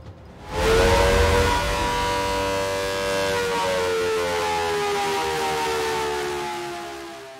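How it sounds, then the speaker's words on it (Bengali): A wartime air raid siren sounds during a civil defence mock drill, rising quickly into a loud, sustained wailing tone that holds steady and then slowly fades, with no voices. "আজকের স্পেশাল যুদ্ধের সাইরেন।"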